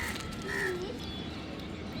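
A crow caws once or twice from some distance outdoors near a road junction in town, short hoarse calls over a steady background hum of wind and traffic.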